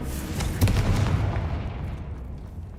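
A fiery Confringo spell blast in Hogwarts Legacy gives a loud booming burst that rolls off into a fading rumble.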